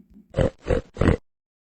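A pig grunts three times in quick, evenly spaced succession, loud and close, followed by silence.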